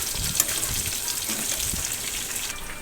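Chicken pieces frying in a pan for chicken pakodi, cooked until light golden: a loud, steady, broadband sizzle that continues unbroken throughout, with no voices.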